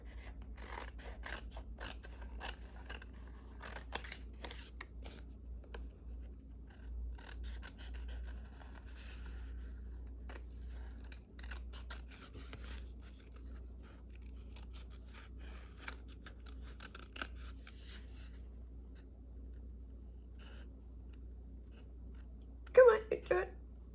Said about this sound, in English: I just cut into the card